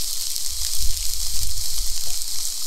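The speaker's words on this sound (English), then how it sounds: "That's a nice sizzle." Food sizzles steadily on a Dash mini griddle at a camping meal, a close, continuous bright hiss of frying with no pauses and no talk.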